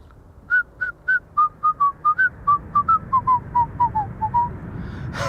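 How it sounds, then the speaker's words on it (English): A person whistles a slow, wavering tune of about eighteen short notes that drift gradually downward in pitch, heard near and alone over faint background hiss at an airport spotting location. "I'll refrain from whistling any more in upcoming streams"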